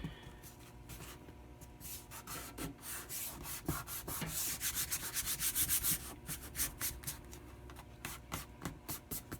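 Upholstery fabric is pushed and tucked into the wooden base of an RV sofa, a close series of scratchy rubbing and scraping strokes that quicken and grow louder midway before easing.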